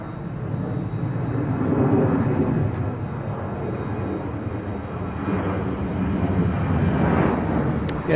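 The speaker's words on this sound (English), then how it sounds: "Wow, it looks like this Southwest flight looks like it's a go-around." A Southwest Boeing jet out of Chicago Midway goes around and passes overhead near Louisville airport, a loud, steady broadband roar that swells and holds across the whole stretch, with no voices over it.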